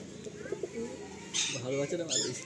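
Pigeons coo in a pigeon loft, low soft rolling calls repeating through the clip, with someone talking over them for much of it.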